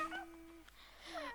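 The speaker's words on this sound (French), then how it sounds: "Oh, chat cartoon." Cartoon cat meowing in the Fortnite video game, two short tonal meows with a pause between them, heard clearly and fairly close with no talking over them.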